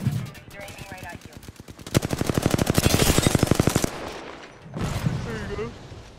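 Rapid automatic gunfire in the battle royale shooter Apex Legends, a dense burst of rounds for about two seconds amid surrounding game sounds, with a voice talking before and after.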